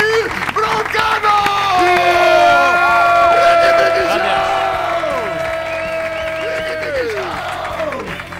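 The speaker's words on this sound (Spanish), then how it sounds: "Un fuerte aplauso para todos ustedes y un fuerte aplauso para David Broncano." Studio audience at a Spanish late-night comedy show applauds and cheers loudly and continuously, with whoops and shouting voices rising over dense clapping that holds steady for several seconds before easing slightly.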